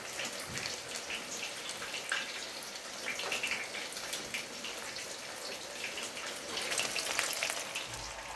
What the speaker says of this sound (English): With 1 kg of tofu, we'll have to fry 2 batches of the tofu cubes.